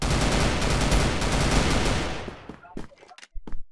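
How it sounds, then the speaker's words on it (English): Sustained rapid Gatling gun fire in the video game CrossFire, loud and dense for about two seconds, then breaking into a few scattered shots and sharp clicks near the end. "let's watch our Gatling gun"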